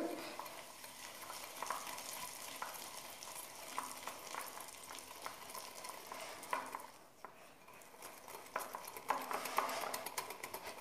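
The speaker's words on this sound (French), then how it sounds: "Je vais ajouter le sucre et je vais mélanger pour avoir un mélange crémeux" Egg yolks and sugar being whisked together in a bowl until creamy, a steady scraping, clinking stir with regular utensil taps against the bowl, moderately close and continuous, with no voice.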